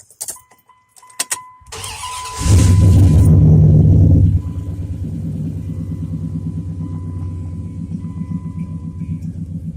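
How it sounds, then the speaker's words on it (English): Truck engine starting up: a few clicks and a cranking whir, then a loud roaring catch that surges for about two seconds before settling into a steady, throaty, close-up idle rumble. "So the truck's got a new sound to it"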